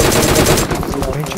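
Gunfire in PUBG Mobile comes as a loud rapid burst of automatic shots that thins out partway through, with a voice briefly audible in the background.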